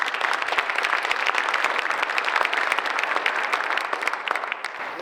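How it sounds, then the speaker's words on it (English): A community audience at a State of the Community event claps in sustained, dense applause. Crisp overlapping claps continue steadily throughout without talk. "Let's give them a round of applause."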